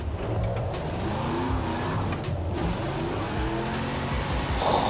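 Engine of a Camaro Z/28 in a VR driving video game with a drift mod, a continuous rumbling note that swells and falls as the revs rise and drop, steady and fairly loud for about five seconds.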